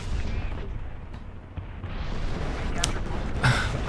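In the War Thunder tank game, a cannon shell strikes the upper front plate of a tank with a sharp, loud impact crack, after a stretch of low rumbling engine and battle noise.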